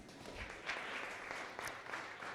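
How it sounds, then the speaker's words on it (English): Applause at a farewell luncheon, a soft, steady patter of clapping from a small gathering, heard faintly for a couple of seconds. "A round of applause."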